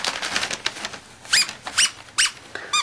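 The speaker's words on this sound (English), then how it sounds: "I believe he squeaks." Rubber Ronald McDonald toy squeezed several times, giving sharp, close squeaks in uneven bursts with short quiet gaps between them, no talking.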